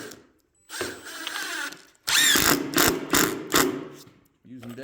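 Deck screws driven into a replacement floor in a water-damaged 34-foot Rockwood camper: a drill whirs in short ratcheting bursts, with loud clicking pulses in one longer run, close by and separated by brief pauses.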